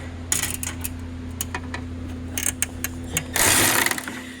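A Milwaukee power tool tightens a reef nut on a turbo restrictor at race scrutineering, giving a short, loud mechanical burst near the end over a steady background hum and scattered small clicks.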